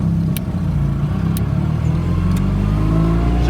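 A car engine runs under load as it is driven and accelerated, giving a loud, steady, gritty drone, with a few brief clicks over the hum.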